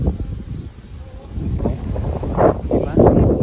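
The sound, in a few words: strong wind at night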